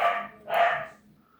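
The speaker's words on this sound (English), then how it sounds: "me dog decides to let me film. Stops barking." A dog barks twice in quick succession, close and loud, with a short gap between the two barks and no talk over them.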